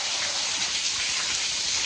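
Heavy, steady hiss of rain falling during a hurricane, a dense unbroken wash of drops on surfaces that holds evenly loud throughout with no voices.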